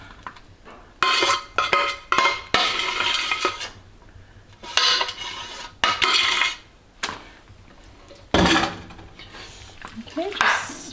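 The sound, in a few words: spooning macaroni and cheese into a baking pan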